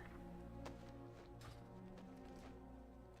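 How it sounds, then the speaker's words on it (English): Small hooves clopping from a horse costume in Final Fantasy XIV, a light rhythmic patter of taps over steady game music and ambience. "it makes little clopping noises"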